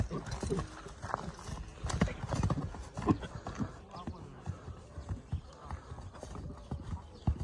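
A horse's hooves clip-clop in an uneven, fairly close series of knocks on the ground, with voices talking faintly underneath and around them.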